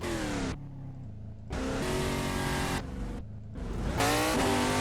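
A VH Commodore race car in an Assetto Corsa replay roars through repeated loud acceleration runs at Morgan Park Raceway, engine pitch climbing and dropping between gear changes, with brief lulls between pulls and a hint of tire squeal.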